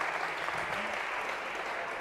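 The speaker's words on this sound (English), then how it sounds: "This is really like the lamest sort of thing to be applauding over." A lecture hall audience claps steadily for the full two seconds, a dense, even patter of many hands at moderate loudness with no voices over it.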